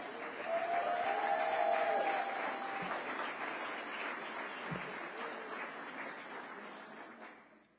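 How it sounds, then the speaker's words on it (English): A crowd at a police community relations awards ceremony gives a round of applause for the award recipients and finalists. It swells quickly, holds fairly steady at moderate volume, then fades out toward the end, with a brief voice over it early on. "Give all of our award recipients and all of our finalists another round of applause."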